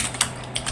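Quick keystrokes on a computer keyboard while a command is entered on a Cisco networking lab interface; three or four short, crisp taps, close and alone.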